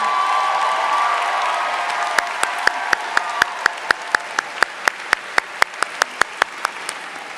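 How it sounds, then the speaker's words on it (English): A commencement audience applauds the nominees, a wash of crowd clapping joined midway by one close, loud, evenly paced pair of hands clapping in a steady rhythm. "can we please applaud to recognize all of the nominees"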